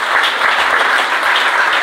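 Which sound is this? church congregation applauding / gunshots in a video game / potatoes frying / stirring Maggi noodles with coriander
church congregation applauding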